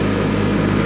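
A John Deere 316 lawn tractor mows a field, its engine droning steadily and loudly up close throughout.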